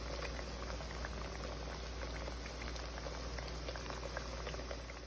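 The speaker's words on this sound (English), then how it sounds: "my plantains that I am frying." Plantains sizzling and bubbling in hot frying oil, a dense steady crackle close by with no speech.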